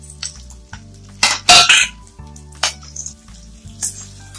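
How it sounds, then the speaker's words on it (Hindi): Green chillies fried in a pan on a gas stove while cooking a Navratri fasting potato dish, heard as pan clatter, stirring scrapes and short sizzling bursts over a steady low hum, fairly close. "और ये हरी मिर्च। इसे अच्छी तरह से थोड़ा सा फ्राई कर लेंगे साइड में।"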